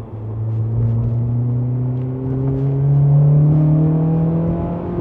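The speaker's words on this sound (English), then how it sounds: "I heard that VTEC kick in." A Honda Accord Euro CL9 engine revs steadily higher under acceleration as VTEC engages, a loud, rising in-cabin drone with strong harmonic tones climbing over about five seconds, with no voices.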